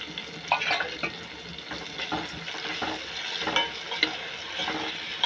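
Tomatoes and onions fry with rock salt in a pan, giving a steady close sizzle with occasional stirring scrapes throughout.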